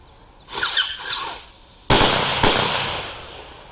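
Homemade Canadian firecrackers, four lit together, go off outdoors: a hissing, squealing fizz for about a second, then two sharp loud bangs half a second apart, each trailing into crackling decay.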